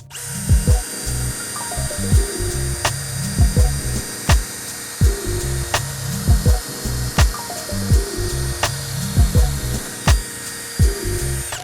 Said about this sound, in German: Jetzt muss ich mal mit dem Akkuschrauber probieren.